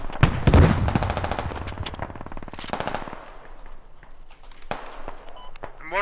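Machine gun fire in an urban warfare video game hammers out in loud rapid bursts, with sharp single shots and faint footsteps between them, while players talk over the action.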